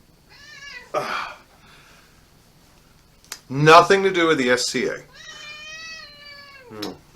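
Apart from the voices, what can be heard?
cat meowing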